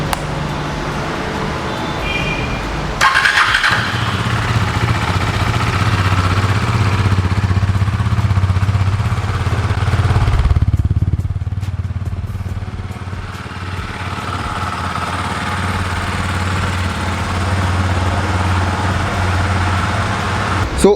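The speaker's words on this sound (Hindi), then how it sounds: "So now it's time to here इसका एग्जॉस्ट साउंड और इसका इग्निशन साउंड कैसा है।" A Husqvarna Svartpilen 250 motorcycle starts up, its ignition catching with a sharp burst before the exhaust settles into a steady, close idle with a brief rev swell midway, running alone throughout.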